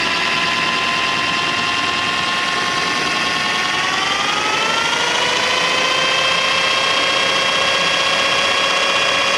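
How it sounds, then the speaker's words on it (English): A drill runs steadily on the shaft of a 1992 Sea Ray 380 Sun Sport boat, a loud, close, continuous whine that drops in pitch about halfway through, with no voices. "as I'm running the drill, watch the shavings pass through the shaft"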